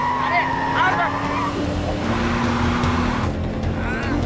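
A car driving at speed in a frantic chase with a truck ahead, its engine drone steady and loud throughout, with shouting voices over it.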